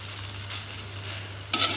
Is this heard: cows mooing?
no